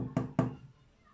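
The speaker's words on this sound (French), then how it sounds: "quelqu'un qui vient et qui toque à la porte." Two firm knocks on a door, close and crisp, a quick double rap followed by a fading tail and quiet room tone, with no voices.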